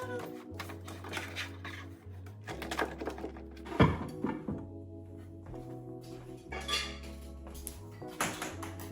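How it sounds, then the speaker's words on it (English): Dishes and cutlery clink and clatter as they are put away in a home kitchen during cleaning and organizing, with scattered light knocks over soft background music and no talking. "While we're at it, we'll put a few dishes away"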